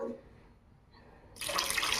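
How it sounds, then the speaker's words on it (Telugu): Water suddenly starts pouring in a loud steady rush after a quiet moment, like a stream filling a pot nearby, while cooking a country rooster curry. "ఇంకా వాటర్ ఇంకొక చుక్క పోద్దామండి"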